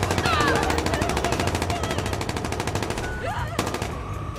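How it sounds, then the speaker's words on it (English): Rapid automatic gunfire from the video game Watch Dogs 2 rattles continuously in a dense, loud burst with quick repeated reports. Game sound effects are layered over it. "I'm reporting gunshots."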